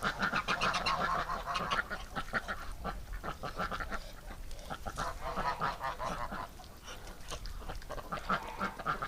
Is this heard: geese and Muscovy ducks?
yes